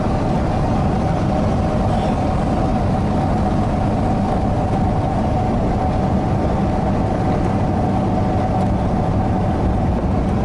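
The engine of a 1986 Chevy K10 truck runs loudly and steadily at raised revs, a constant low rumble with no speech.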